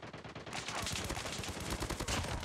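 Rapid automatic gunfire in Call of Duty multiplayer, dense bursts of shots rattling continuously after a brief quiet start, loud and close.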